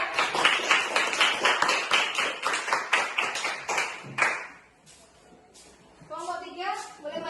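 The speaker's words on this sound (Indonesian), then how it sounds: "Aplaus untuk kelompok 2" A classroom of students applauds a group in a fast run of rhythmic hand claps. The clapping stops abruptly after about four seconds, and a teacher's voice then speaks in the quiet room.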